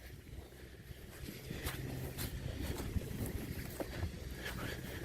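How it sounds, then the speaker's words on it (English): Water trickles steadily from a French drain outlet, flowing like a garden hose opened slightly, giving a continuous soft wash with faint wind noise and no talk. "it's just like having a garden hose, just, you know, opened up a little, just a steady trickle"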